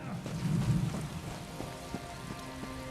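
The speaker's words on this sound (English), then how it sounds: "I could do without this damnable rain. It's been storming since we arrived, and it shows no sign of letting up." Steady rain with a stormy rumble in The Elder Scrolls Online, a continuous wash of drizzle heavier at the start, with a few soft thuds over it and no talk.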